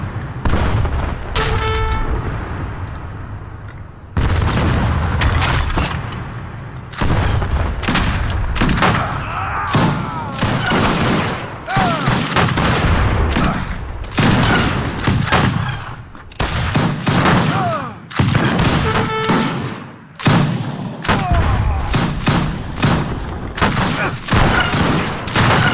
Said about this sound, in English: Rockets coming right into his position in the moors there